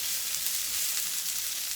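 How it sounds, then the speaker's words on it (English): Garlic sizzles steadily in a hot pan as it is stirred, a constant, close frying hiss with no talking over it. "And stir that up good."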